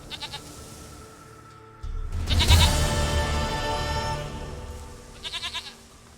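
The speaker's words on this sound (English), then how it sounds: "Goat of mine, dearest, sweetest goat." Goat bleating in The Witcher 3 video game: one long, loud, wavering bleat sounds up close in the middle, with short quieter bursts of game sound before and after.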